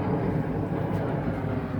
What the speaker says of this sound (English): that airplane just took off